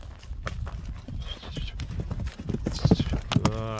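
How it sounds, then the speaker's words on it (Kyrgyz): A light horse walked on a rein so its gait shows, hooves clip-clopping in a steady rhythm up close, with faint voices and an occasional whinny-like tone in the background. "Мынакей жылоолорун көрүңүздөр аттын"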